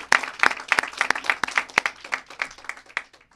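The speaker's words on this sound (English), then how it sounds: "That deserves applause." Applause from an audience at a California bill signing for preschool for all, a few seconds of fairly close, dense clapping that thins and fades toward the end.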